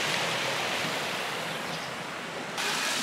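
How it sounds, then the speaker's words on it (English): A river on the Camino de Santiago between Roncesvalles and Zubiri rushes past in a steady, loud broadband wash, close to the microphone with no voices. "we've got a river just coming down here"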